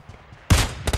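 A single sharp Kar98 bolt-action rifle shot in a team deathmatch video game, loud and close, followed by a brief metallic clack a moment later.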